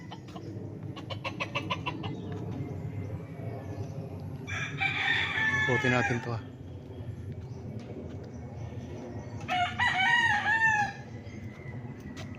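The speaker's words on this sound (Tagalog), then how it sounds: "Daming alagang manok mga kapraps." Roosters crow on a farm with fruit trees, two loud, close cock-a-doodle-doos a few seconds apart over a busy background of clucking fowl, with someone speaking briefly.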